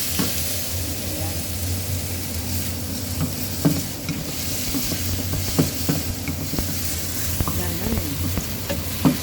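Onion and mushroom sauté in a pan for carbonara with a continuous sizzle and hiss, broken by intermittent scraping stirs, close by, while a voice speaks briefly.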